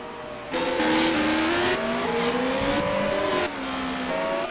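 DTM race cars in the GP4 video game at Monza, several engines droning together with rising, shifting pitches as they overtake, loud and continuous.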